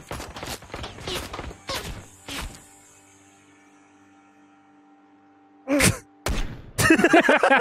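Gunshots in the biker action game Ride to Hell: Retribution: a rapid burst of sharp shots, then a lingering hum and near silence, followed by a few more loud blasts and impacts.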